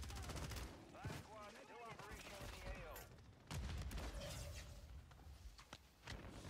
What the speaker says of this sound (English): People shooting from the right as well.